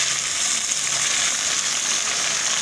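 Tomatoes going into browned onions frying in a pan, a dense, steady hiss of sizzling oil, loud and close with no clear breaks.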